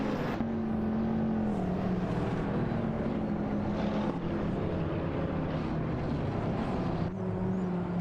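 Steady droning engines of a Ford Mustang Boss 302 and a Ferrari Portofino racing in a video game, a continuous sustained whine held at close range with no talking.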